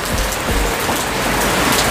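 Steady rain falling in front of a house on a Sunday, a dense continuous hiss of drops on surfaces with no talk over it.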